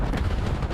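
Dense gunfire in a Call of Duty League esports match: loud, continuous rattling bursts of shots blurring together with booming low rumble throughout.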